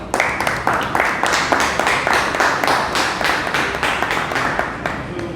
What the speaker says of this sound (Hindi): सुशील जी के लिए बहुत बहुत तालियां.